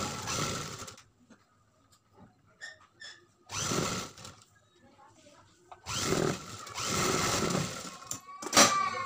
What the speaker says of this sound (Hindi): हम पहले इस तरह से फोल्ड करके हम लप पे सिलाई लगाएंगे